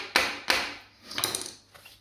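Several sharp metallic hammer blows strike a stuck socket during DIY kitchen electrical work, two hard hits followed by a cluster of lighter taps and one last knock, close and otherwise quiet.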